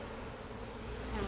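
Honeybees buzzing steadily in an open hive, a dense, continuous drone heard up close and fairly soft with no talking.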